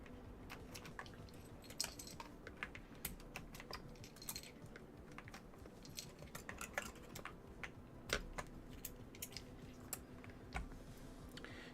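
Typing on an Aula Hero84HE keyboard fitted with double-shot PBT keycaps, a quiet close stream of irregular key clacks with occasional louder taps and no talk.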